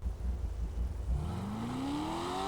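A car engine in GTA 5 Online revs up, the pitch climbing steadily from a low rumble into a rising whine, loud and close, with no talk.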